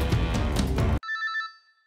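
A telephone rings with a bright electronic warble, a short ring that quickly fades after a burst of louder background noise.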